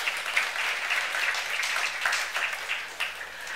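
A church congregation applauds steadily throughout, a dense continuous wash of many hands clapping at moderate volume with no one speaking over it.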